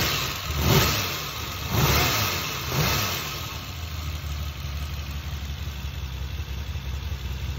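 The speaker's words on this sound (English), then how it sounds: "It's a 3-liter V12." A 3-liter V12 car engine at a concours event revs in three swelling bursts early on, then settles into a steady idle rumble, close and fairly loud with no talk.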